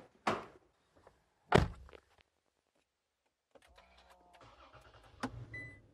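A truck door thunks shut twice in quick succession, then after a pause the engine cranks and starts, settling into a low idle with a further clunk near the end.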